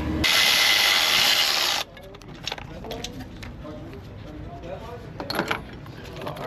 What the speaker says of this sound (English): Let's switch to the ratchet.